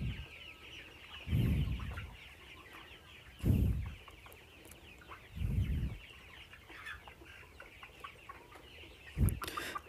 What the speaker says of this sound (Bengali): এই জায়গায় সবসময় একটু বেশি মুরগি থাকে।